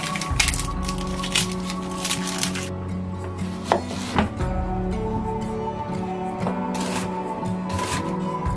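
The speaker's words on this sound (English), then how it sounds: "peeling and slicing the onions along with cutting them in half" A knife slices halved, peeled onions on a cutting board, with a run of crisp, fairly quiet cuts in quick bursts and a few louder chops over soft background music.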